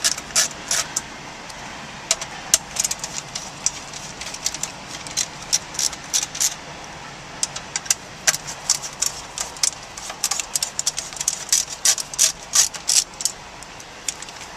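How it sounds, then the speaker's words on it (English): A ratchet backs out the screws holding a factory stereo to its bracket in a 2007-2011 Toyota Camry, with repeated bursts of sharp, close clicking separated by short pauses. "remove the remaining 3 screws that secure the stereo to the bracket"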